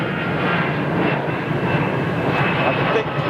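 A wide-body jet airliner at Heathrow Airport produces a continuous, fairly loud engine roar with an even rumble throughout.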